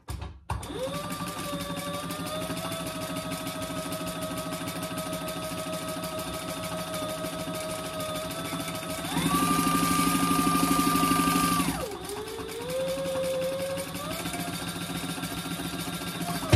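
A sewing machine runs a long, steady hum while stitching a curved top edge on a hobo bag, speeding up into a louder, higher whir for a few seconds before easing back, close up with no talking.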